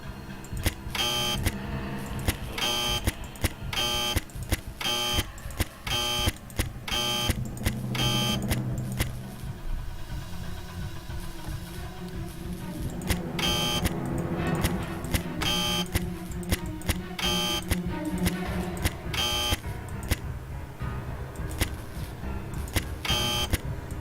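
An electric gate puzzle buzzer in the Nancy Drew game The Final Scene gives repeated loud electronic buzzes and beeps in rhythmic bursts, with game sounds layered behind them.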